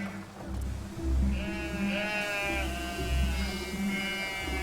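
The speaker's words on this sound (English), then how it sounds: "The shepherds herd their goats to the mountains to graze," Goats bleat on a mountain pasture in northern Fujian, with several drawn-out, wavering cries overlapping one another against a low droning hum in the background.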